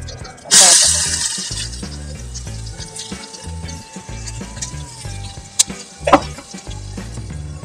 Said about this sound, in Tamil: இப்ப எண்ணெய் காஞ்சிருச்சு, ஜீரகத்தை போடுறேன்.